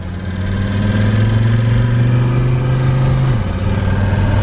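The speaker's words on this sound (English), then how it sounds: "Oh buddy, we're idling rough." A diesel engine runs loud and close at a rough idle after a heavy Seafoam treatment, with a low steady drone that dips in pitch briefly near the end.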